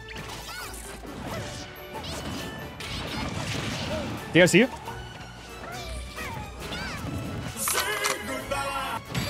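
Banjo & Kazooie land a forward smash in Super Smash Bros., a sharp, loud crashing hit midway through busy game sounds and music, with someone talking over it.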